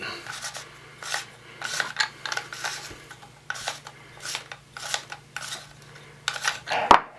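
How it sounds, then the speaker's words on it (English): A Magpul tool works the forend nut off a 12-gauge Remington 870-clone shotgun in a series of close metallic scrapes, clicks and ratcheting rubs arriving in irregular bursts, ending with a sharper clank, with no talking. "Magpul actually sends a tool so you can take the forend nut off"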